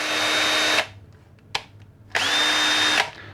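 A Stanley Fatmax cordless drill whirs in two short bursts, spinning up and stopping, with a brief click between them, close and clear.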